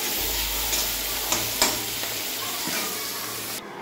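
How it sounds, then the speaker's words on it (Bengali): Pointed gourd fries in oil with salt and turmeric, producing a steady sizzle with a couple of spatula scrapes, a low background hum, and a sudden cut-off at the end. "পটল ভাজা করছি আমি এখন।"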